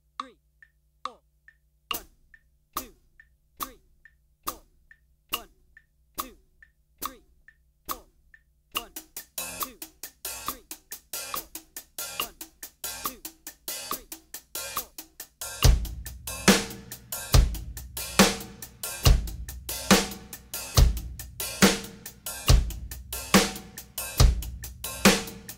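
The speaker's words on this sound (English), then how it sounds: "just play the hi-hat ride pattern as written" A drum kit groove built on a hi-hat ride pattern with openings. Sparse, steady hi-hat ticks come first, then snare and other strokes fill in, and deep kick drum hits join for a loud, full, driving beat.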